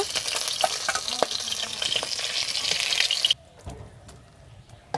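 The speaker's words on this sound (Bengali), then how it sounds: "মাছগুলো লাল লাল করে ভেজে নিয়েছি, এবার তুলে নেব।" Pabda fish fry in oil in a pan, a dense close sizzle with small pops and stirring knocks that cuts off abruptly, leaving a quiet room with faint clinks.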